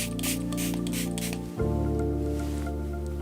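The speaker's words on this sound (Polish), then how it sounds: "Rozprowadzam wodę." Water is spread by hand over facial skin during a collagen massage, soft wet squishing and smearing close up, with a faint steady electrical hum beneath and no talking.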